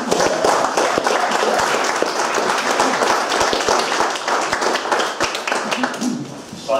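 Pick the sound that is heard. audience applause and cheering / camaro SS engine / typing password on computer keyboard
audience applause and cheering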